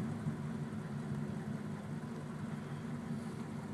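A 1941 Cadillac convertible engine idling steadily with a low, even rumble, faint and continuous with no revving or voices.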